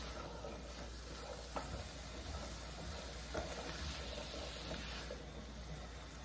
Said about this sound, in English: This should take about less than 5 minutes to saute up really quick.